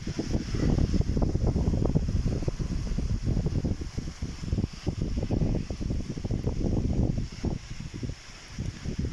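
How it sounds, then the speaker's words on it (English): Strong gusty wind on a sandy beach buffets the microphone continuously, a rough, rumbling roar with no voices. "The wind's starting to pick up. I'm sorry about the wind."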